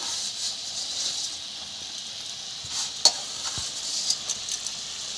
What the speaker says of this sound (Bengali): এবার বড়িটা ছড়িয়ে দেবো